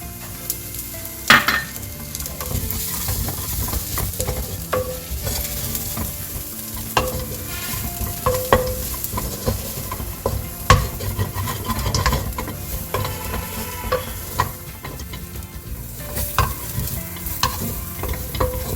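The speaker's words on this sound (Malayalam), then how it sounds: "നമുക്ക് ഇതിൻ്റെ അകത്തേക്ക് നമ്മുടെ പൊടികൾ ചേർത്ത് കൊടുക്കാം. മല്ലിപ്പൊടിയും ഗരം മസാല പൊടിയും." Onions being stirred and fried in a pan with coriander powder and garam masala for a green pepper chicken curry, a steady close sizzle broken by repeated scraping stirs and occasional clinks of utensil on pot.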